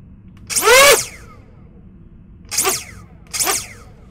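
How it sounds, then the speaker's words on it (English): A brushless RC motor system on a Tungsten V4-I build revving in three loud, sharp bursts, the first a longer rising whine, followed by two shorter quick revs, heard close up against a quiet background. "I'm gonna rev the system it, it might be a little bit loud"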